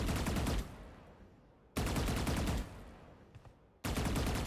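Video-game gun spray, two long bursts of rapid automatic fire, each loud and near and then tailing off into fading echo before the next burst starts, with no talking.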